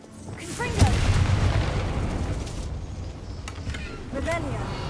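Confringo fire spell in Hogwarts Legacy bursts with a booming blast, followed by rolling rumble and scattered magical crackles and whooshes in the game's combat.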